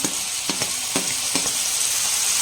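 Tomatoes sauté with onion and capsicum in a pan for a capsicum mushroom thokku, a close, loud sizzle with four or five quick rhythmic spatula strokes in the first second and a half, no talking.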